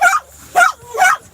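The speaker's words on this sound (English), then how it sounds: "Barking at people." A dog gives three sharp, loud, close barks in an even rhythm, each a short yippy bark with a whining edge, with brief quiet gaps between them.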